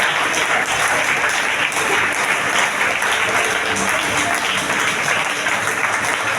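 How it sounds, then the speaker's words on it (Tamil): A church congregation at an Assemblies of God celebration claps together for a minute, thick, even applause holding steady and loud throughout. "கைத்தட்டி ஒரு நிமிஷம்"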